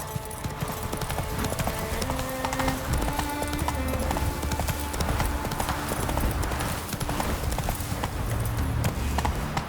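Horse galloping in The Witcher 3 video game, steady rapid hoofbeats running continuously throughout alongside layered game sound and faint music, loud and close.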